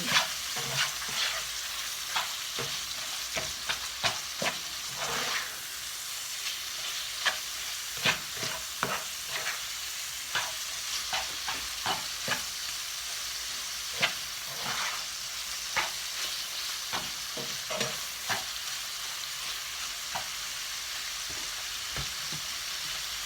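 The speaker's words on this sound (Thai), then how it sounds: "ต้องผัดไข่กับกุ้งให้สุกนะคะ เราถึงจะใส่เส้น" Eggs and shrimp stir-fried in oil for pad thai, a constant sizzling hiss broken by frequent scraping and knocking of the spatula against the pan, close and steady throughout with no talking.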